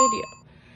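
A single bright notification bell ding that rings out at once and decays quickly into near silence.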